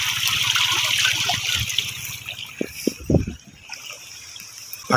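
Irrigation water flows along a farm channel toward the fields, a continuous rushing and trickling with a few splashes and knocks partway through, heard close with no talking.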